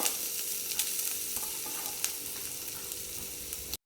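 A cup of freshly grated coconut is stirred in a hot pan, producing an even, close sizzle with scattered scrapes and taps of the spoon, ending abruptly.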